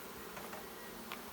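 Honey bees buzzing during a hive split, a faint steady hum with a few brief louder buzzes of individual bees passing close.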